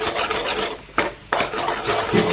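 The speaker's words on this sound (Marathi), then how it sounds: "चांगलं हलवून घ्यायचं." Masala and salt stirred in a pan, a dry rasping scrape that runs steadily with a brief pause and a sharp resumption, close and moderately loud with no talking.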